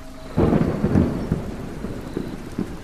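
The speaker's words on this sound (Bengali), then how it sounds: "বাইরের প্রবল বজ্রপাত সহ ঝড় বৃষ্টি।" A violent thunderstorm with heavy rain: a deep rumble of thunder breaks in loudly and then fades, leaving the steady hiss of a downpour drumming on surfaces.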